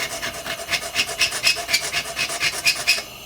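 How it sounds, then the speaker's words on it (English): A small sanding stone rubs back and forth against metal on a Coleman item being rebuilt, a steady rhythmic rasping of about a dozen strokes, close and scratchy, with no talk. "I got a little sanding stone here."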